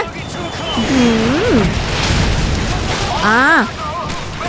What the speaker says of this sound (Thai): มันจะปาระเบิดมาระวัง